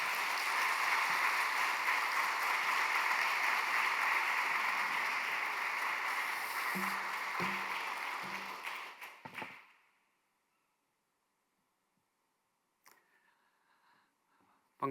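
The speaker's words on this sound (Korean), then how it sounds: "우리 큰 박수로 모시도록 하겠습니다." A church congregation in Ulsan claps to welcome a guest pastor: steady, close applause for roughly nine seconds that stops abruptly, leaving near silence with a few faint sounds.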